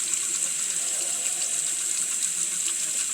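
Tap water runs steadily into a sink as a person washes their face, a close, even hiss that holds the same level throughout with no voices over it.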